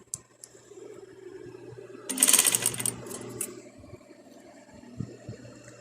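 A sewing machine runs in a short burst, stitching folded-over elastic onto a dress top being upcycled; a dense whirring stretch of about a second sits amid quieter handling sounds and room noise.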